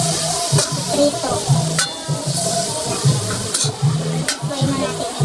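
Pork steak frying in a pan, with steady sizzling broken by repeated stirring and scraping strokes in an uneven rhythm, close and fairly loud.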